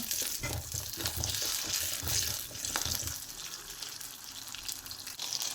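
Garlic and a small piece of ginger sautéing in a pan for a dried-prawn and pappadam chutney, with soft sizzling, scraping stirs and a trickle of running water close by, no talking.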